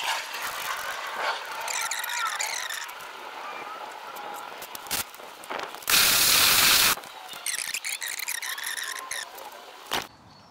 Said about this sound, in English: then we'll pressure wash it off to see how much comes off